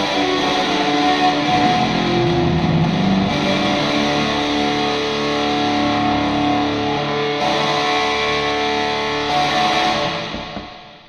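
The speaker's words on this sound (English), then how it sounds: "That is thoroughly a plate sound." Strummed electric guitar drenched in a thick, smooth plate reverb sustains for about ten seconds, then the lingering wash fades out.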